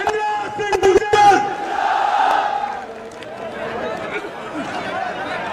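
Crowd at a Congress political rally in Viratnagar erupting in loud cheering and shouting, with scattered sharp claps at the start and a dense roar of voices that gradually settles into crowd noise.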